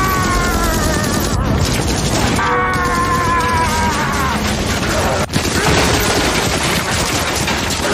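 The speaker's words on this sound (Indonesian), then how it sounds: "Dengan senjata api tersebut, Kujira Nami langsung membredel Kenshin dengan tembakan." A Gatling gun fires in a dense, continuous loud barrage in a Rurouni Kenshin The Final film scene, layered with whooshing effects and dramatic music, with a sharp break midway before the din resumes.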